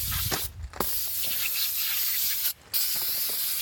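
A spray nozzle coats a diesel engine with foam cleaner: loud, steady hissing with two brief breaks where the trigger is released, close up and with no voices.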